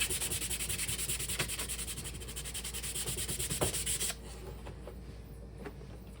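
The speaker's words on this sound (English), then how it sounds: "sand off some of that soot" Sandpaper scrubs back and forth over laser-cut wood in quick, even strokes to clear soot, close up and steady, easing slightly toward the end.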